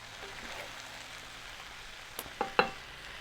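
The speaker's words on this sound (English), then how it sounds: "I'm gonna give these a careful stir." Vegetables and mushrooms are stirred in a hot frying pan: a continuous soft sizzle, then a few sharp spoon-and-pan scrapes and clacks near the end.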